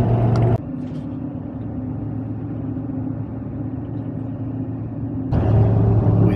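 Steady low rumble of a car driving through harsh winter road conditions, a continuous road and engine drone from inside the vehicle that swells louder at the start and end.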